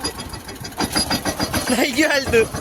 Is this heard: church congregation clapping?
no